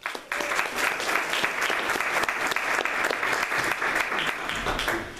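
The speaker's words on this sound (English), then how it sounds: "give him a round of applause and welcome him to Madisonville" Audience applause fills a Madisonville 1 Million Cups gathering, a steady dense clatter of many hands that starts abruptly, holds loud and even for about five seconds, then tapers slightly at the end.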